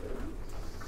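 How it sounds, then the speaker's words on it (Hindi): A carrier pigeon gives a brief low coo, heard close against a steady, noisy background of birds in a large pigeon loft. "इतना अच्छी नस्ल और इतने अच्छे अच्छा कबूतर है ये जी"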